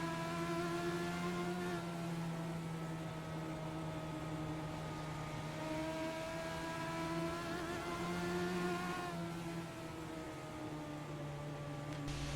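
A Legends race car engine drones steadily while lapping the rough, wild Oswego short-track racetrack, a sustained buzzing note with slight pitch rises and dips through the turns, heard from onboard and loud, with no talking.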